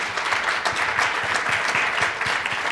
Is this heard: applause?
yes